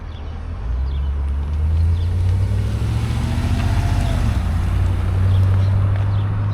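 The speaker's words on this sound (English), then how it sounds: "Nice little Camaro just passed by." A Chevrolet Camaro passes on a downtown main street, its low engine rumble building and fading steadily, with some wind noise over the microphone.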